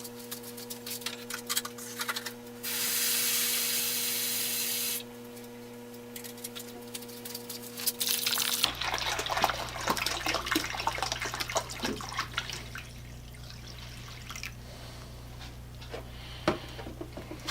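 Liquid poured into a 5-gallon bucket of old pipe threading machine parts, a steady rushing pour for a couple of seconds, then trickling, clinking and splashing as the parts settle, quiet and close.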